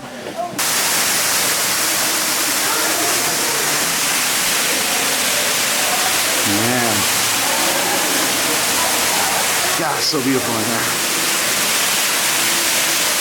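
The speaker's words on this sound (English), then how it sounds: "And this waterfall is natural." Loud, constant rushing of a natural underground waterfall echoing inside a cavern, with a person briefly speaking over the roar.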